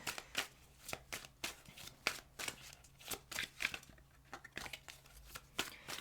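Tarot cards being shuffled by hand during a reading, a quiet run of sharp riffling snaps and soft slides repeating in uneven bursts over a faint steady hum.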